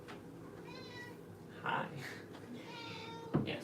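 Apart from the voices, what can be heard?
cat meowing at the door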